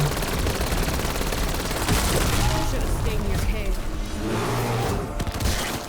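Gunfire in Black Ops 7 Zombies with a Pack-a-Punched golden weapon and ray gun, dense continuous shooting and explosions mixed with loud game noise throughout.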